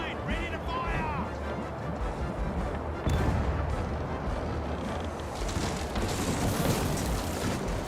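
Ship cannons fire a broadside in the game Caribbean Legend, heavy booms and crashing rumble rolling on, with a louder burst midway and renewed blasts near the end; voices cry out early on.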